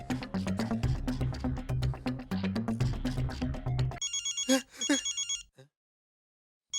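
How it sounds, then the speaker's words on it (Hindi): A telephone rings in a TV comedy scene, a steady electronic ringtone repeating in loud bursts for about four seconds, then a brighter trilling tone sounds briefly before falling silent. "ये किसका फोन है?"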